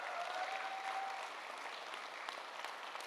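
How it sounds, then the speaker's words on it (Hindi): An audience claps at a stage event for Kangen Water leaders. The applause is faint, distant and steady, and fades slightly toward the end. "एक बार जोरदार तालियां लेडीज एंड जेंटलमैन"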